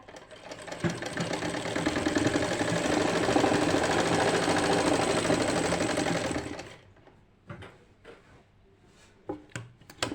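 A sewing machine running a continuous straight stitch on a kameez lining, a loud, fast mechanical whirr for several seconds, then stopping, followed by a few scattered clicks and handling knocks.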